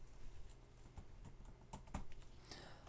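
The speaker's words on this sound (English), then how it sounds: "we just type whatever command that we have defined here, exact, uppercase" Quick keystrokes as a command is typed on a computer keyboard during Arduino work: a close, faint run of irregular clicks with no one speaking.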